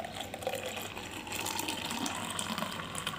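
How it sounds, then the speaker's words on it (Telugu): Coconut milk juice made with coconut water being poured into serving glasses, a steady close liquid pour and splash running for a few seconds, fairly quiet, with no talk. "ఇప్పుడు 2 సర్వింగ్ గ్లాసులు తీసుకొని సర్వ్ చేసుకుందాము"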